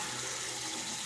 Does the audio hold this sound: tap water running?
yes